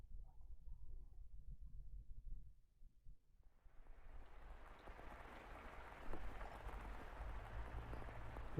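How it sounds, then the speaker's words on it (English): Steady rain falling in the video game The House in Fata Morgana, starting quietly and swelling after a few seconds into a dense, continuous wash of patter that carries on to the end. "The rain just won't let up."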